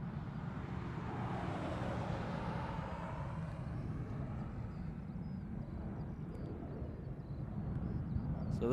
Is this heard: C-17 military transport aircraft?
yes